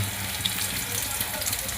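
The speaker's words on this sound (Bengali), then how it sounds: "এর জন্য আমি আলুটাকে ভেজে নিচ্ছি।" Raw potatoes frying in hot oil for a green banana kofta dish, a steady close sizzle and bubbling hiss running evenly throughout with no pauses.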